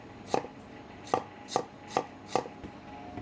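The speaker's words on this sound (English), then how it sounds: "Get yourself a piece of ginger and 3 cloves of garlic. Slice it up into little thin strips." A knife slices a piece of ginger and garlic cloves into thin strips on a cutting board, five crisp, evenly spaced cuts followed by a softer tap, with no one speaking.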